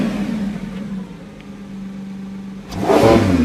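Lamborghini V12 engine in sports mode, heard from close range: a low steady idle, then a loud, sudden rev that rises sharply near the end.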